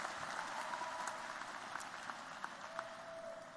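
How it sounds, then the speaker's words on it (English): Applause for PhD graduates at a university medical school commencement ceremony forms a steady, moderately distant wash of clapping from a large crowd, with no break from start to end. "An applause for PhD graduates."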